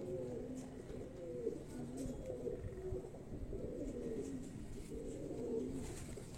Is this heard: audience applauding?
no